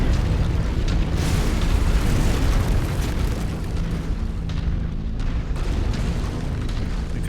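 Wall cannons fire in a video game battle, with a dense, continuous rumble of heavy booms and blasts that stays loud throughout.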